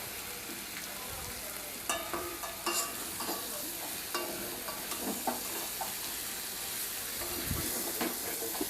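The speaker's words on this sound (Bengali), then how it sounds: "এবার ভালো মতন নাড়িয়ে নেব মশলা আর মাংসটা যাতে ভালো মতন মিক্স হয়ে যায়" Fried chicken pieces and potatoes are stirred with spices in an oily pan, making a continuous close sizzle. Irregular scraping and clattering strokes from the spoon punctuate it.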